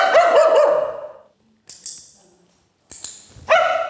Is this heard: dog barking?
yes